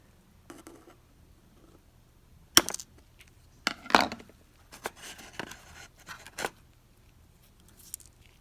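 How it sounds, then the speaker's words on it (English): Several sharp snipping clicks of scissors cutting off a hook, spaced irregularly, close and fairly quiet, with faint rustling between cuts and a low steady hum underneath. "Show scissors just clipping it off,"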